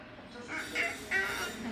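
A voice imitates a chicken clucking with two short, nasal, honking calls close together, heard up close over faint background noise at a family home in Vietnam.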